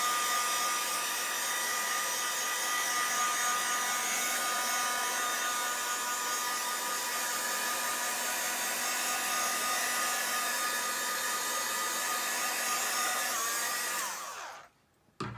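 Heat gun blowing hot air to dry alcohol ink on an art surface, a steady loud whirring hiss held for about fourteen seconds before cutting off abruptly.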